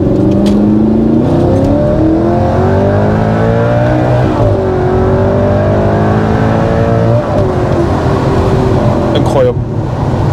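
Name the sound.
Audi R8 V8 engine accelerating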